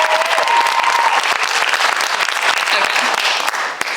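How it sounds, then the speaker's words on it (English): Loud, dense audience applause at a theatre show, sustained clapping from a full house that stays strong throughout with brief whoops and voices mixed in. "So big round of applause to him."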